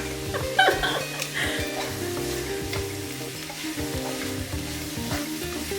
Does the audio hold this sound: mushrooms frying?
yes